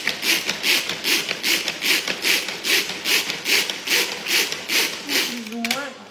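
A manual pull-cord food chopper works through ingredients with a fast, regular series of rasping whirs, each pull of the cord making one burst, about a dozen close up, while a voice speaks in the background.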